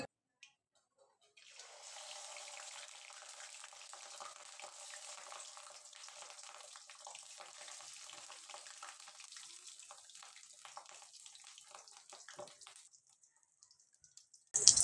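Rohu fish roe hits hot mustard oil and fries with a steady, fairly quiet hissing sizzle that holds for many seconds, ending in a brief louder clatter.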